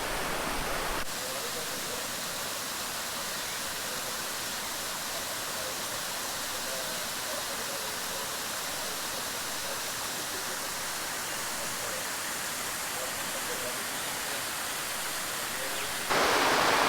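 Charco Prieto waterfall near San Juan, Puerto Rico, heard from close by at the top after a climb, a steady, even rush of falling water that fills the whole stretch without pause, with no talk over it.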